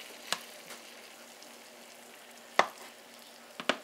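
Butter melts in hot pan juices for a steak gravy, giving a low steady sizzle broken by a few sharp spits and crackles, the last ones clustered together.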